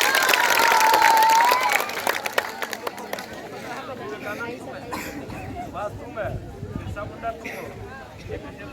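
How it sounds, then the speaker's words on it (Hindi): An audience claps for a team at a school quiz competition at Anarkali +2 School, Palojori. A loud burst of applause lasts about two seconds, then thins into scattered claps and crowd murmur. "एक बार ताली बजा दीजिए विवेकानंद ग्रुप के लिए"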